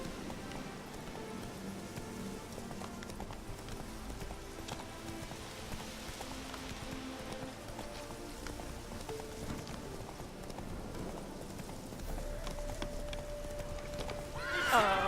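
Geralt's horse Roach in The Witcher 3 gallops with steady clip-clop hoofbeats and neighs, set against game music and light rain, with a louder whinny near the end.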